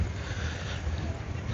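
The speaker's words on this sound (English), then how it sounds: "It's quite windy around this side actually at the moment." Steady, blustery wind on Tsilivi Beach, Zante, Greece buffets the microphone in a low continuous rumble, with a broad hiss of moving air and no voices.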